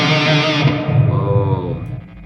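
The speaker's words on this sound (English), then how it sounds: "I'm gonna throw on some reverb." A distorted electric guitar chord played through a Two Notes Captor X with impulse responses rings out and decays with a reverb tail, followed by a second sustained tone fading away.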